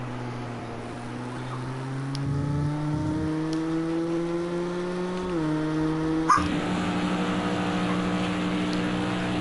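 A race car at Le Mans qualifying at the Circuit de la Sarthe, its engine note whining steadily, dropping in pitch as it brakes into the second hairpin, then a brief thump and renewed engine tone, moderately distant.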